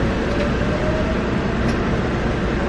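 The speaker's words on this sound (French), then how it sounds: "C'est le train express qui va nous ramener directement à Séoul." An express airport train to Seoul rumbles along steadily, a loud continuous roar of wheels and carriage noise from inside the moving car.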